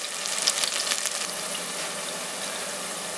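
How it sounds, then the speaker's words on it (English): Onion rings sizzling in hot frying oil, a bright crackling hiss with a few louder pops early on, settling into a steady fry. "Once you put them on, you can hear that sizzle"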